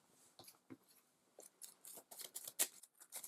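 A small deck of game cards is shuffled, giving quiet, close papery flicks and riffles in irregular bursts that build slightly toward the end.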